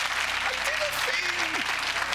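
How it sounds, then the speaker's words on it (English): A studio audience on Who Wants to Be a Millionaire claps in a brief, steady burst of applause for a contestant, with faint voices mixed under the clapping. "Round of applause for Jeremy."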